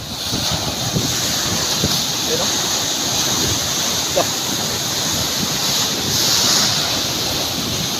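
Heavy typhoon surf roars continuously, with big storm waves crashing on the shore and gusts buffeting the microphone while a person talks briefly over it.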